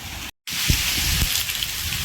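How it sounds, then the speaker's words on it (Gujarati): Heavy monsoon downpour in Porbandar, a steady broadband hiss of rain pouring down near a parked car, continuous apart from a brief dropout, with soft low thumps of drops or handling beneath. "વરસાદ તો હજી ચાલુ જ છે, ધોધમાર ચાલુ જ છે"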